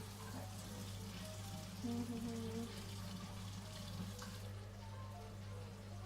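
Water runs steadily from a kitchen tap while tomato soup is being made, a continuous hiss and splash with a low hum underneath throughout.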